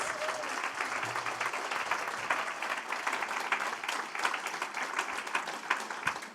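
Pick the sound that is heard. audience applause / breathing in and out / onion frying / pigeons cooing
audience applause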